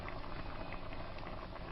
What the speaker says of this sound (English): once it starts boiling real good